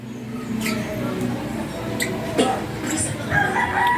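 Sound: chicken crowing

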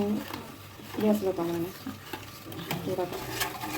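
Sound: stirring cooking jam in a pan

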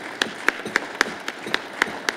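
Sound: audience applause for the panel experts

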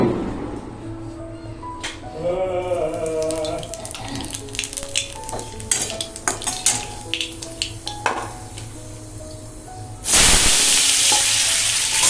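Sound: potatoes frying in a pan

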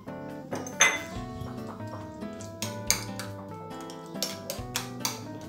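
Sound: mixing cheese with egg yolk in a bowl

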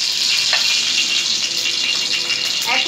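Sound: ghee sizzling on a hot iron griddle (tawa)

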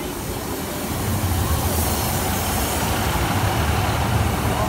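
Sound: Class 153 diesel train 153-311 passing level crossing

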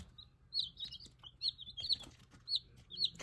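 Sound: young Maran chicks clucking

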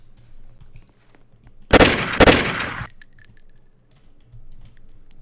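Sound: ACS gun firing tracer rounds in Roblox Studio, video game

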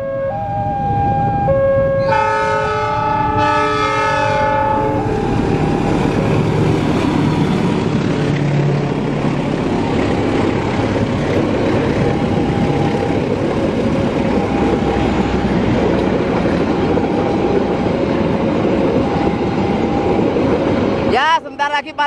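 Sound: Wijaya Kusuma train passing a railway level crossing

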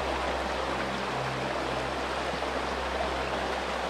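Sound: river water flowing near Episkopi, Paphos, Cyprus

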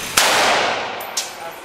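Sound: gunshots at a machine gun range

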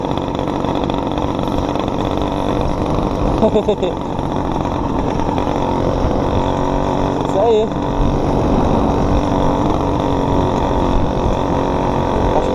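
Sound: motorized quad engine running at about 70 km/h

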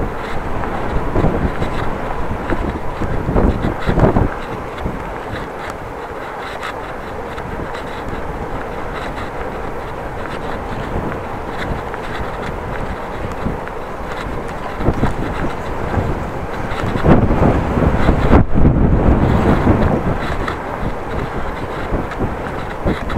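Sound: wind blowing into microphone while cycling against the wind

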